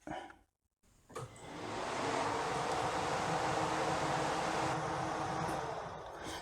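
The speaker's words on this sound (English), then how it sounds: "That'll be the aircon." After a brief pause, a fan starts up and builds to a steady, loud whooshing blow of air that holds constant, like a blower motor running.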